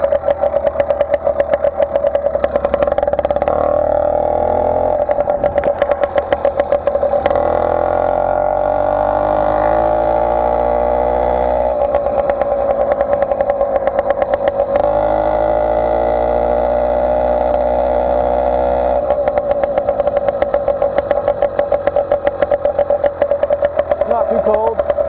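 A motorized bicycle's small two-stroke engine on its stock intake runs steadily and loudly for the whole stretch, with a buzzing drone that rises and falls with throttle during a ride, and a voice talks over it.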